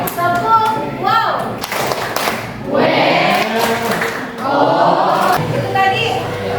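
Children in a classroom clap a rhythmic 'tepuk wow' routine, bursts of clapping mixed with their chanting voices, loud and close.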